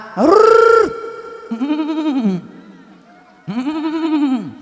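A human voice imitates a goat's bleat in three drawn-out, wavering calls, loud and close, separated by short pauses.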